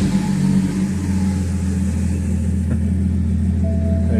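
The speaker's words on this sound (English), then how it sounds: "Let's go ahead and crank it up." A BMW M57 diesel engine runs at a loud, steady idle, with a deep low rumble and a mid-range drone close by and no talk over it. The crank and start are not clearly separated from the running.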